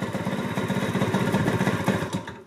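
A 1988 Honda Elite scooter engine idles too low and close to stalling, a rough, uneven putter with pulsing beats, close and steady, with no talking.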